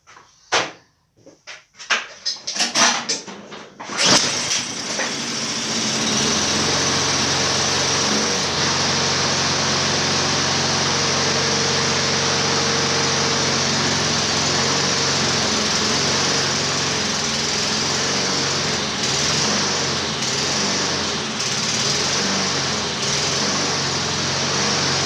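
A Husqvarna lawn mower's small engine, choke off, catches after a few seconds of sputtering, clattering start-up bursts, then runs on as a loud, steady, close-up drone with no talking.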